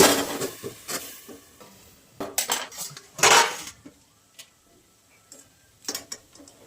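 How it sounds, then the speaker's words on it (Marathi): A lid goes onto a pan of cooked gram flour (besan) with onion and tomato: a series of metallic clanks and clatters, one louder clang in the middle, then quieter taps and light sizzling. "मी आहे ना हे बेसन 2 मिनिटं झाकून ठेवणार आहे बरं का असं."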